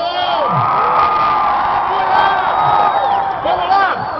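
A church congregation at a baptism service shouts and cheers in a loud, sustained roar, whoops and cries rising over the crowd noise throughout.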